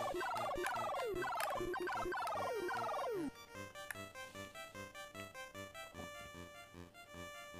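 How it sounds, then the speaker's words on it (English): Bird gobbling calls from the video game Dr. Jekyll and Mr. Hyde, a rapid series of descending chiptune warbles repeated several times over a looping electronic tune that carries on alone afterward. "The birds that are being killed by the hunter."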